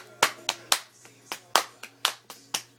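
Hands clap in a patty cake game, about ten sharp, close claps in a steady but slightly uneven rhythm with short gaps.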